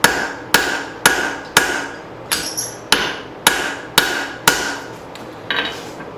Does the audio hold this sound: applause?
no